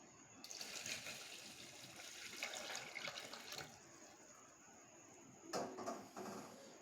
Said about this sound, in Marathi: आत्ता आपल्याला याच डाळीमध्ये परत पाणी घालायचं आहे